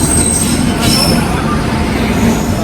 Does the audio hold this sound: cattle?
no